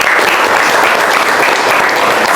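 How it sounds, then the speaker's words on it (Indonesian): Loud, steady audience applause from a seminar crowd, dense clapping holding evenly for a couple of seconds with no voices above it. "Tepuk tangan."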